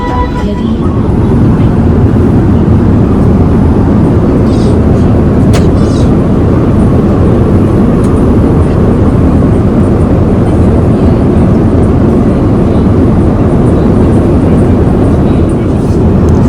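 Constant loud low roar of an airplane cabin on a flight to Heathrow, unbroken throughout, with faint muffled voices now and then beneath the engine drone.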